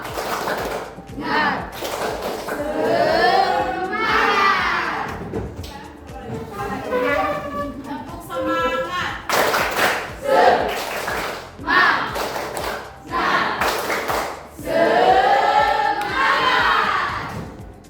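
A school class performs the tepuk semangat chant, rhythmic bursts of group clapping alternating with loud chanted voices, repeating in several rounds over close, lively room sound.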